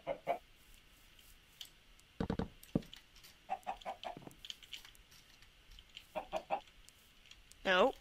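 Video game chickens clucking in short bursts, several quick clucks scattered across the stretch with a louder squawk near the end, over a faint quiet background.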